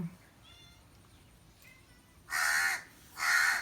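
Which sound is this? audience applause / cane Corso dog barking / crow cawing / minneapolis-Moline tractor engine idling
crow cawing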